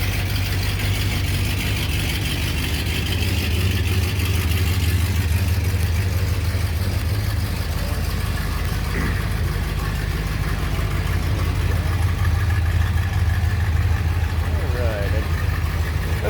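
A 1963 Chrysler Imperial LeBaron engine idles steadily from behind the car, a continuous low rumble that holds constant throughout, with a voice speaking faintly over it.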